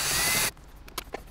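A power tool whirs steadily on 10 mm bolts in a Toyota Tacoma dash, then stops abruptly, followed by a few light clicks and taps of loose parts nearby.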